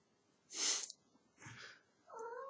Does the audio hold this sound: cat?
yes